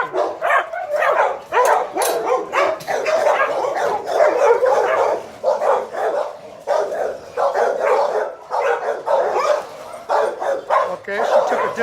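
Several dogs barking and yelping as they are let loose during a fear-aggression training session, rapid overlapping barks close and loud, with a person talking among them.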